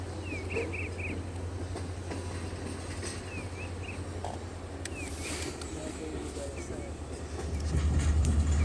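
A CSX train engine idles in a Decatur rail yard while cars are switched, a steady low rumble with occasional clanks and squeaks, growing louder toward the end.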